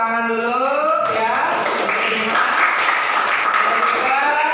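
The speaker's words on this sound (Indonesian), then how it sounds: "kita beri tepuk tangan dulu ya" Classroom applause for a student who answered fastest and got everything right, a steady dense clapping that starts over a teacher's voice and fills the room for several seconds.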